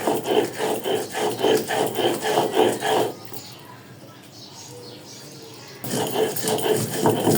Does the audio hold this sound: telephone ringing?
no